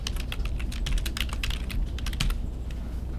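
Rapid typing on a computer keyboard, with a steady stream of close, crisp key clicks and no talking.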